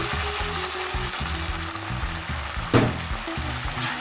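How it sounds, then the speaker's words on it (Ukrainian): Steady sizzle of food frying in a pan as it is stirred, with a sharper hiss and burst around the moment water is splashed in, all close and continuous. "Так, додаю водички трохи."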